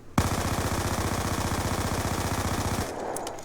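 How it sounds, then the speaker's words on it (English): An MP7 submachine gun fitted with a quickdraw attachment fires in Black Ops 2, a single sustained automatic burst of just under three seconds with rapid, evenly spaced shots, loud and close, followed by a brief tail. "Let's try it with the mp7 now"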